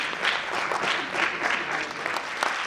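Audience members at a sports and exercise medicine conference applaud a presenter taking the stage, producing a steady, moderately loud wash of clapping that holds evenly throughout.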